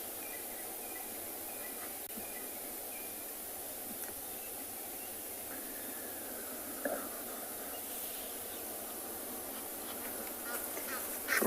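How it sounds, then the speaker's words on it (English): Faint distant dawn birdsong at sunrise in the South African bush, scattered calls and chirps over a steady hiss of outdoor ambience, with a louder call right at the end. "enjoy a moment of silence for a moment, to hear the dawn chorus"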